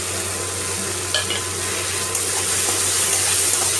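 A spice paste loosened with warm water and raisins frying in a pan gives a steady, bright sizzle with a couple of brief stirring clicks, close and fairly loud, with no talking.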